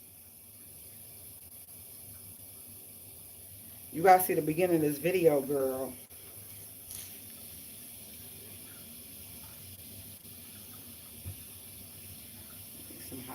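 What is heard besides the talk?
hot water running from bathroom tap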